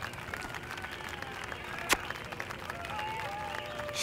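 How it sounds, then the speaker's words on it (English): A crowd in The Simpsons Game cheers and applauds in a continuous wash of clapping, with one sharp louder burst midway and the roar swelling toward the end. "I just can't hear you over the roar of this appreciative crowd"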